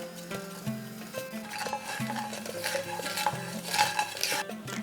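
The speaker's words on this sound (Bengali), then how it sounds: "কালো জিরেটাকে হালকা ভেজে নিয়েছি, সুন্দর গন্ধ বেরিয়ে গিয়েছে।" Black cumin seeds being stirred and lightly fried in a little hot oil in a pan, a utensil scraping and clinking against the pan in a steady rhythm over a soft sizzle, close and moderately loud with no talking.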